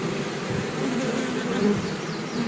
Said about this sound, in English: And they fan their wings to send the scent out here